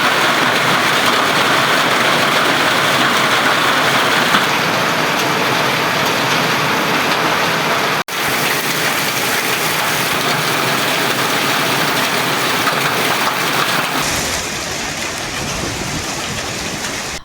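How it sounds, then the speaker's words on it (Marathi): Heavy unseasonal rain with hail pouring down in Kolhapur, a loud continuous hiss and roar that stays dense throughout and eases slightly near the end. "अनेक ठिकाणी गारपीटही झाली."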